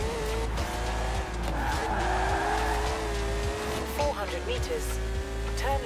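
A car in Forza Horizon 4 arrives too fast and brakes, tires skidding and squealing over a loud steady engine drone, with someone talking over it.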